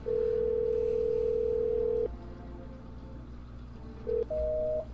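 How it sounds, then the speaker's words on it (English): A telephone dial tone holds steady and loud for about two seconds, then cuts off, leaving quiet line noise before a short tone pair returns near the end, as a call to a neighbour is placed. "Let's try calling our neighbor."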